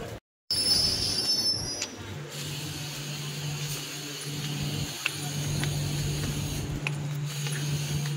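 At a railway station a train rolls past with a constant low rumble, while thin metallic wheel squeals ring out over it and a few sharp clanks punctuate the steady noise.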